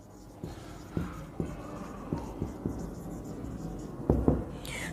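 Nursing notes are written by hand on a board with a series of irregular tapping and scratching strokes, close and moderately quiet over a soft background hum.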